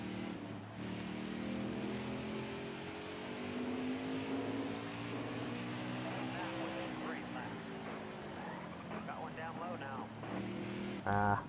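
Race car engine from the NASCAR Heat 5 video game drones steadily and loudly throughout, with shifting revs and a rising burst at the end, while someone talks over it.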